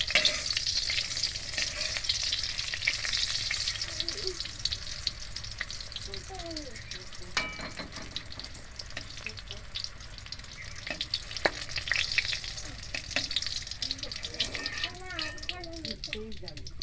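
Pieces of pointed gourd (potol) fry in oil with a steady, close sizzle, broken by occasional clinks and scrapes as they are lifted out one by one.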